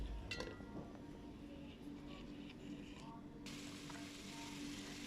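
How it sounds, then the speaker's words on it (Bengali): Broad bean seeds being stirred and fried in a spiced masala, giving a steady low sizzle with occasional soft scraping, and a brighter burst of frying noise near the end. "ভালো করে নেড়ে নিচ্ছি, সিমের বিচিগুলো"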